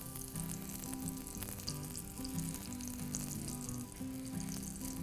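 Steady, close sizzling of Haitian beignets frying in hot oil, a continuous crackle that holds at an even level with no talking.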